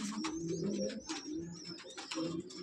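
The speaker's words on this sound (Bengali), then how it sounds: "সব এলাহাবাদি পায়রা।" Allahabadi pigeons coo in a busy loft at Park Circus, with several close, overlapping soft coos and throaty calls alongside light flutters and chirps.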